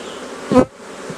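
A honey bee buzzes close by at an open hive during a split check, a single short, loud burst of buzzing that rises and cuts off over a quiet background hum.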